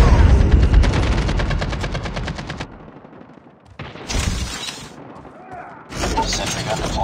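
Loud close bursts of automatic gunfire in Call of Duty, rapid rattling volleys separated by short lulls, with shattering impacts and distant battlefield noise.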